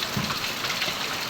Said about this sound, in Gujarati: જો સારો એવો વરસાદ છે।